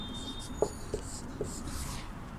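An answer being written on a classroom board in a Class VI Hindi lesson produces soft scratching strokes with a few small taps, close and faint against quiet room tone.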